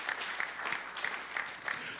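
Congregation clapping at an anniversary church service, a steady wash of applause with rhythmic bursts of claps, moderately distant and fairly faint, with no one speaking over it.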